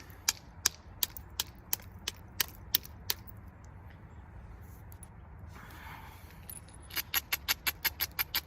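A flint point's tip ground down by hand, heard outdoors as faint, evenly spaced scraping strokes, a steady series that pauses and then resumes in a quicker, slightly louder run.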